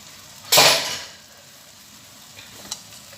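A beaten egg poured into a hot pan of ampalaya over high fire gives a sudden loud sizzle that fades over about a second, then a faint crackle and a small tap.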